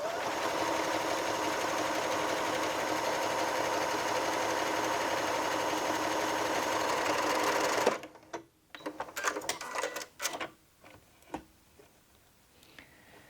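A Janome Memory Craft 6700P sewing machine stitches an elongated decorative pattern, a fast, steady mechanical whir and needle rattle lasting about eight seconds before stopping, followed by scattered handling clicks and taps.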